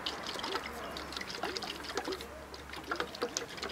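Diluted wood stain is stirred in a glass jar, giving a soft watery swishing and faint clinks close by, with a low hum in the background.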